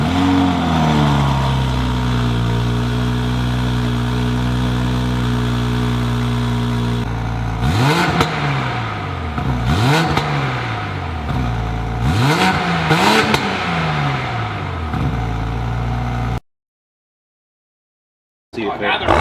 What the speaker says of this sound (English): We're gonna start up the car now for the first time and hear what it sounds like with the frequency intelligent catted downpipe on.